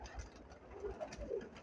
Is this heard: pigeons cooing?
yes